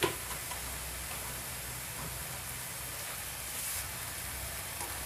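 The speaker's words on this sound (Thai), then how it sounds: "ก็เคี่ยวไปจนกว่าขิงสุกนะคะแล้วก็พริกหยวกสุกนะคะ" Ginger and bell pepper simmer in a little water in a pan, giving a steady soft bubbling hiss with faint ticking pops, close and even throughout, no talking.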